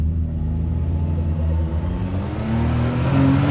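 A Can-Am X3 off-road vehicle revs its engine while climbing a ledge, a close rumbling drone that rises and falls in pitch and swells louder near the end, with no voices.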